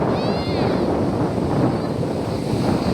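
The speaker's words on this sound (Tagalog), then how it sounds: "Tataas na naman ang alon. Malakas ang hangin dito." Strong wind buffets the microphone over sea waves breaking on a shore, a continuous loud roar with surging surf beneath and faint distant voices.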